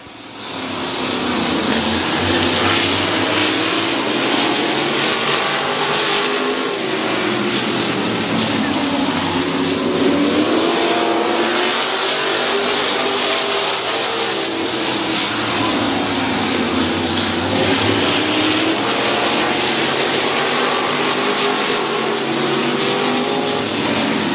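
Race cars circle the track at Midvale Speedway, giving a dense, loud, continuous engine roar whose pitch swells and dips as the pack passes.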